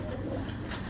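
A pet pigeon gives a brief, soft coo close by, with low murmuring around it.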